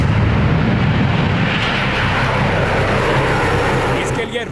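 A Russian Tu-160 bomber roars overhead in flight, a loud broad jet rumble that fades slightly toward the end, with a narrator speaking over it.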